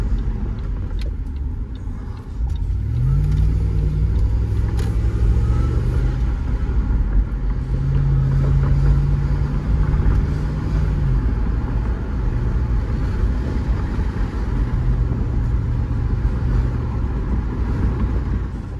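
A Range Rover Sport L320 with freshly replaced brake fluid driving at speed, a steady loud road rumble and engine hum rising and falling in several waves as it slows for hard stops.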